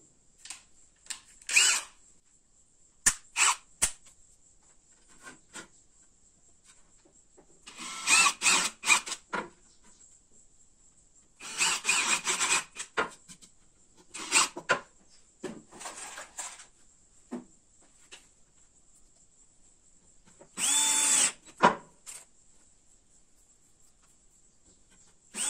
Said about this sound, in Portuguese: Agora nós vamos colocar aqui parafusos para ficar uma coisa mais segura.